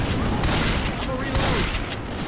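Shotgun blasts in Left 4 Dead 2 boom through a dense, busy stretch of game noise, with shots and mechanical clatter layered together and speech-like sound mixed in.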